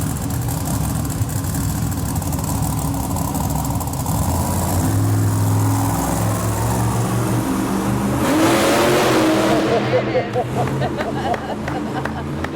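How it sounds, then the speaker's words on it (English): Monster trucks in an indoor arena idle and rev their engines, a loud low rumble with a rising rev near the end, under crowd babble and talk. "It does, inside the arena when these trucks go out."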